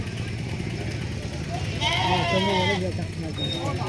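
Telangana sheep bleating at a busy Thursday livestock market in Warangal, several overlapping cries rising mid-clip over steady crowd chatter and a passing motorcycle engine.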